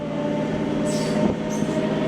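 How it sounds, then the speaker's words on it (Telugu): A MEMU commuter train pulls away from Bapatla station, a steady rumbling roll with a faint wheel squeal rising briefly near the middle, heard close from on board. "బాపట్ల నుంచి మన ట్రైన్ బయలుదేరిపోయింది."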